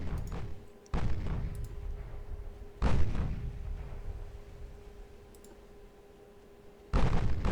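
Warship main guns fire in a naval battle game, a destroyer letting off heavy booming salvos with long rumbling decays, four separate blasts spaced irregularly, loud and close.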